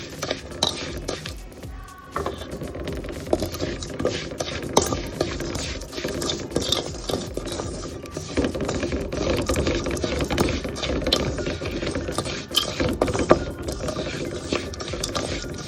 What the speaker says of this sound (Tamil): கோதுமை ரவை சேர்த்துட்டேங்க. இதை நல்லா வறுத்து எடுத்துக்கோங்க.